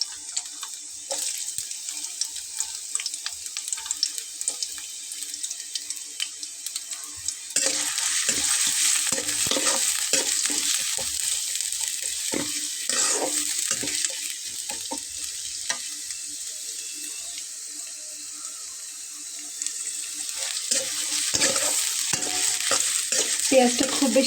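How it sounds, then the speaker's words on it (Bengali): Chopped onions, four of them, dropped into hot oil for a goat head curry and stirred, giving a steady sizzle with scraping and clinking of the spoon that grows louder partway through. "তো এখন আমি এটাতে পেঁয়াজ কুচি দিয়ে দেব।"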